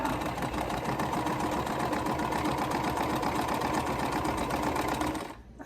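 A domestic sewing machine stitches at a fast, steady mechanical whir with a rapid rhythmic clatter, close and continuous, then stops abruptly near the end; the bobbin may be running empty.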